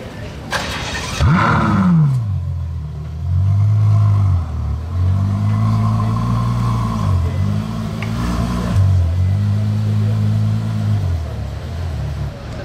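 A Mercedes-AMG approaches and drives past on the street, its engine rumbling and revving through several rising and falling pulls, loud and close throughout.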